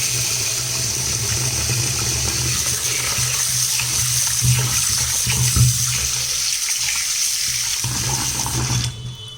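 Rice being washed and swirled in a pot of running water, a steady loud splashing and trickling that carries on without pause and cuts off near the end.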